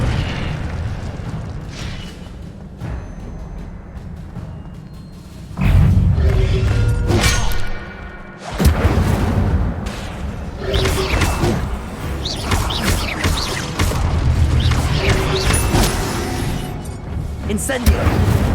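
Incendio fire spell cast repeatedly in the video game Hogwarts Legacy, a series of loud booming fiery bursts with roaring flames that keep erupting over a continuous rumbling game soundscape.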